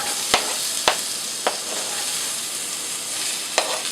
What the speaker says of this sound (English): now we add the onion.